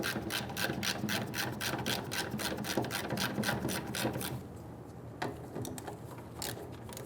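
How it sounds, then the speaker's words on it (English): A ratchet tool rapidly clicks out 5/16 bolts from the top of a 1994-2004 Ford Mustang fuel pump sending unit, with a fast run of sharp clicks followed by sparser ones. "We're going to remove the 5/16 bolts around the top of the fuel pump sending unit."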